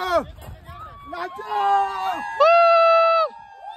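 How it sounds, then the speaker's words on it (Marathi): Celebration after a team wins a final, with voices shouting and cheering together, one loud sustained yell standing out over the crowd noise. "फुल जल्लोष."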